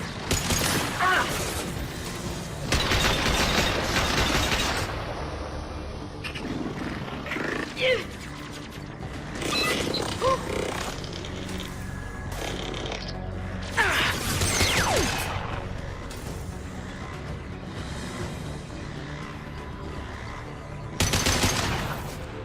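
Gunfire in the video game Mass Effect 2 comes in bursts of rapid shots and blasts over a busy combat soundscape, with characters' voices calling out between the volleys.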